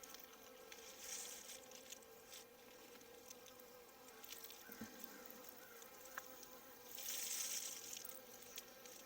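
Honeybees buzz around an open beehive during an inspection, a soft continuous hum with a few brief louder passes as individual bees fly close, swelling near the end.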